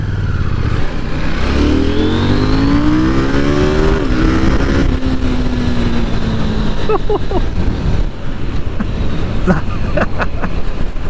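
A KTM 890 Duke R motorcycle engine revs up through the gears on a road ride, loud and close with rising pitch sweeps over heavy wind rush, a voice speaking briefly near the end.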